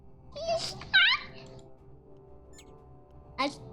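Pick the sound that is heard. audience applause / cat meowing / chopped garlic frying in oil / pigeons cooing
cat meowing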